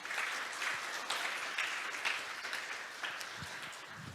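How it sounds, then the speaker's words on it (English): Dense, continuous applause from a conference hall audience, sustained and moderately loud throughout, with no voices standing out. "please give them another round of big applause"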